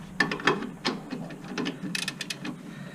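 Ratchet clicking in repeated bursts while brake bolts are tightened on a Nissan Frontier brake job, close and fairly loud with no talk.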